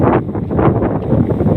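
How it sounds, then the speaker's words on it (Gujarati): Strong wind gusting over a ripe wheat field, a loud, continuous low roar with buffeting on the microphone and no voices. "આજનો પવન ઘણો છે ઓ ભાઈ, જોવો તો ખરા"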